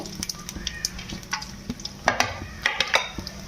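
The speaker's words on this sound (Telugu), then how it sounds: "తాలింపుకు సరిపడినంత ఆయిల్ వేడి అయిన తర్వాత వేసనపప్పు ఆవాలు జీలకర్ర శనగపప్పు" Mustard seeds, cumin, chana dal and other lentils tempering in hot oil for a black-eyed pea dish, with quick irregular crackles and pops over a soft sizzle and a few stirring knocks, close-up and without talk.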